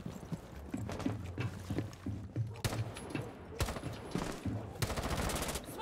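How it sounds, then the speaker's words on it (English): Rapid gunfire bursts from the Rainbow Six Siege video game, with clustered automatic shots and scattered single reports, loud and close, over a busy mix of in-game effects. "I just shot him through a pixel"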